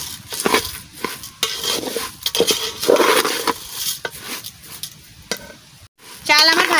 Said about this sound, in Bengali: এবারে আমি চালটা ভেজে নিই।